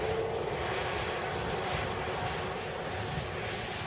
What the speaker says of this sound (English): A320neo departing.